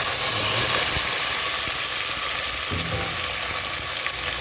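Onions fry in oil in a pan for a Hogenakkal-style fish curry, giving a loud, steady sizzle with a low background rumble and a few faint stirring knocks.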